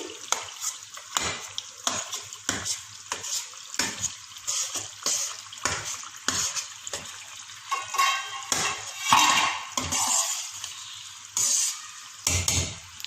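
Spoon repeatedly pressing and mashing tomatoes into sizzling masala in a pan for white biryani, steady rhythmic scraping and squishing over a constant frying hiss.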